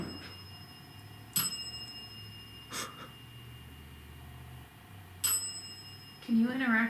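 Small bell at an old hotel, rung in a few sharp dings spaced several seconds apart against a quiet room, with a brief voice near the end.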